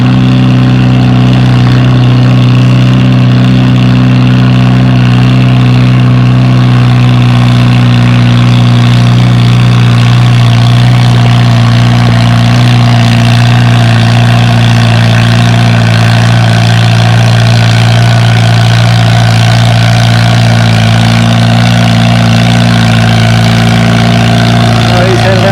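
A pulling tractor idles at a spring tractor pull near Othello, Washington, with a steady loud low engine drone and strong harmonic hum throughout, and no clear revving; crowd or announcer talk sits faintly underneath.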